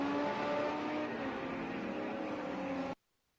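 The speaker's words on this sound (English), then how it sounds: "You can just hear these engines hitting top volume, top revs." Race car engines at top revs, a steady loud high-pitched engine drone that cuts off abruptly into silence.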